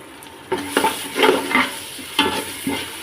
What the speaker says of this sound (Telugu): ఇప్పుడు ఒకసారి బాగా కలుపుకుందాం